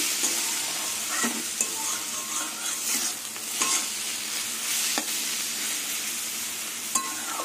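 Red amaranth greens fry with garlic and onion in a hot pan, a steady broadband sizzle running throughout with occasional clinks and scraping stirs, close and moderately loud, no voices.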